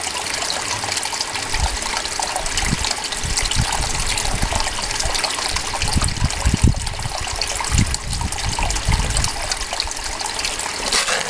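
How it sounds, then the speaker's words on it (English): Water rushes steadily through a gold sluice as concentrates are cleaned up, a continuous close gushing and trickling flow with a few louder splashes and no talking. "Might have to turn down the water a little more, who knows."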